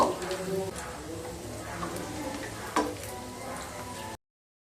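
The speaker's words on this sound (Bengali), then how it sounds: "এবার কাজু কিশমিশকে ভালোভাবে ভেজে নিয়ে তারপর ফিরে আসছি।" Cashews and raisins frying in ghee on low heat in a pan, a soft steady sizzle running throughout with a few sharper crackles, close by.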